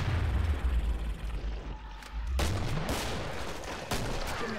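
Video game gunfire during a boss fight, heavy booming shots and rapid bursts with deep rumbling tails, loud and close, coming in clusters across the clip.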